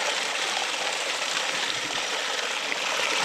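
Water runs steadily from a tap in a continuous, even hiss, close and fairly loud, with no talking over it.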